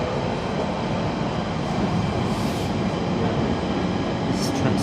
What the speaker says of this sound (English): Enjoying the train ride.